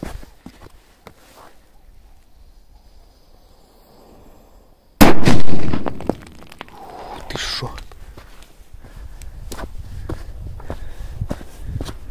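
After a quiet stretch with faint movement, a single sharp, loud firecracker blast bursts out at night on ice, followed by scattered debris and footsteps.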